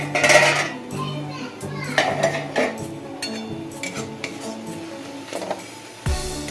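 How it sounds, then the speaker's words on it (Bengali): A metal lid clatters off a cooking pot of boiled tomatoes and onions with a pinch of turmeric, with dishes clinking and children's voices in the background. "5 মিনিট পর ঢাকনাটা খুলছি।"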